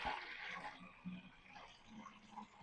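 Water pouring into a container during a Beast Lab Hyperbeast unboxing, a quiet, continuous trickling splash with faint bumps and no talking.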